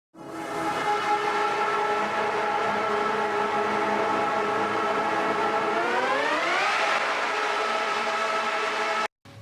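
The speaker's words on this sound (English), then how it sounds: "Even that riser is just guitar pedals and messing around with the filter on it." Guitar pedals with a swept filter build a sustained riser, a dense harmonic drone whose tone climbs steadily and peaks near the end before cutting off abruptly, loud and alone with no talking.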